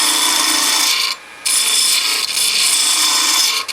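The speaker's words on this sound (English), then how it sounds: "now I'll go back with my detail gouge" A detail gouge shaving wood on a spinning lathe, a loud, steady scraping hiss broken by one short pause and a brief dip near the end.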